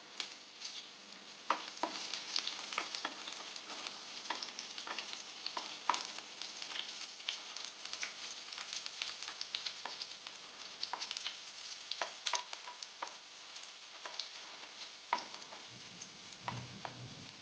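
Dried red chillies, cut up and dropped into hot oil for a pineapple curry, fry with a steady close sizzle and crackle, sharp pops scattered throughout, and a soft scrape near the end; nobody speaks.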